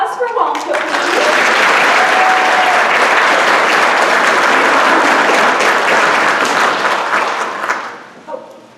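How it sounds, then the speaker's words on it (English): Loud audience applause at a chocolate-themed talk, a dense wash of clapping that swells quickly, holds steady for several seconds, then fades out near the end. "Can we have a round of applause for Wonka"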